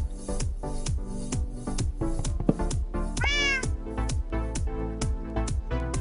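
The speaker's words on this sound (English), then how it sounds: "Did you just purr a little bit?" A cat in Minecraft gives a single drawn-out meow partway through, heard over steady, plucked, tonal background music with no talking.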